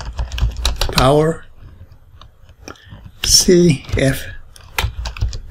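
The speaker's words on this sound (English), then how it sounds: "And then I'm going to type" Computer keyboard keys being typed in Windows 10 Command Prompt, a few sharp quick clicks in short bursts heard between stretches of a man's speech.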